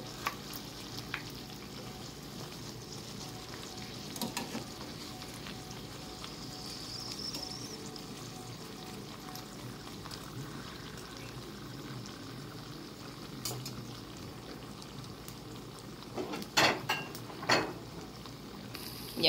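Small stuffed empanadas fry in hot oil until golden, a continuous soft sizzle with occasional clinks of a utensil against the pan near the end.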